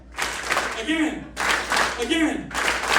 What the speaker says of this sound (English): Give me 2 claps